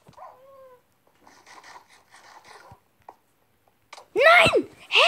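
A dog is killed with a sword in the video game Minecraft. Faint scattered clicks and hits come first, then two short, loud yelping whimpers near the end.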